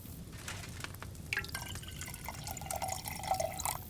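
Liquid trickles and drips into a vessel during alchemy brewing in the video game Kingdom Come: Deliverance 2, a light, steady pouring with glassy clinks, heard alone at moderate volume.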